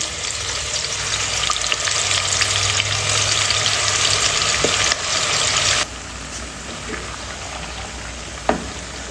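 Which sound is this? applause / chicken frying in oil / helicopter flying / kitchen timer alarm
chicken frying in oil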